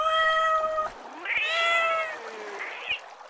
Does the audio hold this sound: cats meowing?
yes